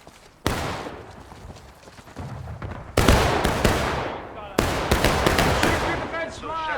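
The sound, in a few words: gunfire in a video game (Mountaineer Campaign)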